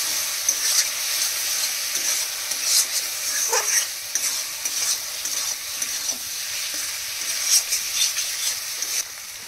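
Fish curry masala with coriander powder sizzles steadily in a pan, a close, even hiss broken by repeated scraping strokes of a spoon as it is stirred, with no one talking.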